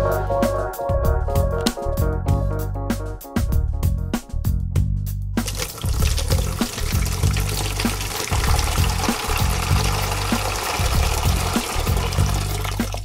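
Tap water runs and pours continuously while people wash up in shift workers' accommodation with water recirculation, under steady rhythmic background music.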